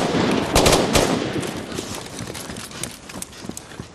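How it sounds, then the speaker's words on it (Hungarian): Gunfire in a Hungarian action film: a dense burst of rapid shots up front, thinning into scattered reports against a busy, loud background. "Nem halljátok a lövéseket?"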